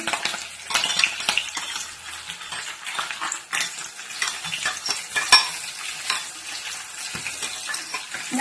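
Green chili paste going into a hot pan for chitrannam, with bright crackling sizzle and repeated scrapes and clinks of a spoon stirring, close and moderately loud, no talking.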